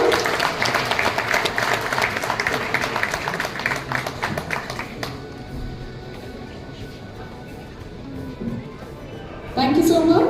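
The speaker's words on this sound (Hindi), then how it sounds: "Big round of applause, everyone." A crowd claps at a school's 20th annual day celebration, loud and thick for the first half before thinning to scattered claps and room murmur, with a voice and renewed noise rising briefly at the end.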